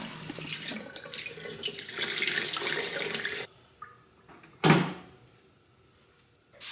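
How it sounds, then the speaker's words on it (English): Boiling water pours hard into a kitchen sink and rushes down the plug hole in a loud steady gush, then cuts off, followed by a sharp clunk and a faint trickle. "then I'm going to flush it all away with some boiling water"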